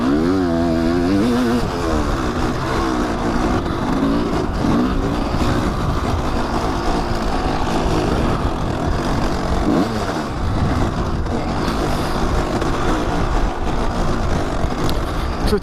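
An MX dirt bike with new plastics on an enduro trail ride at Gorman OHV Park, its engine droning loud and close throughout with rising and falling revs, with no talking.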